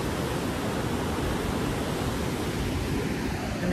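Creek water rushing beside a picnic table outdoors, a steady, dense broadband wash without pauses, close and fairly loud, with no voices.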